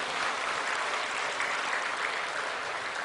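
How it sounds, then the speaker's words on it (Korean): A church congregation claps during a Sunday sermon, a steady even wash of applause from many hands, moderately distant and unbroken. "박수 좀 해요."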